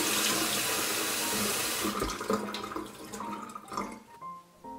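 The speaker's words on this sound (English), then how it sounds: "Final rinse in very, very hot water." Very hot tap water streams steadily over a thrift-shop doll's hair for a final rinse, a loud continuous faucet gush that thins toward the end into splashes and drips.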